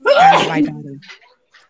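A brief, loud burst like a sneeze, close to the microphone, mixed with a voice speaking, then quiet.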